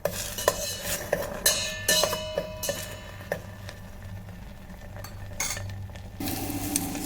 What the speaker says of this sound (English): The moment it starts sticking to the base of the kettle, we're going to give it a mix.